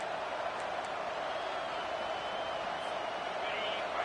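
A stadium crowd at a Southern California vs Michigan football game makes a steady, distant wash of cheering and murmur that holds at an even level throughout.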